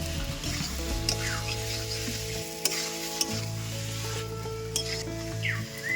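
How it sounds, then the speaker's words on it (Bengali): Potatoes are stirred through sizzling spice paste in a pan for a fish curry, giving a steady fry hiss with rhythmic scraping strokes and a few light utensil taps, close by and without speech. "এবার আমি আলুগুলো দিয়ে আলুগুলো দিয়ে ভালো করে একটু নাড়াচাড়া করে"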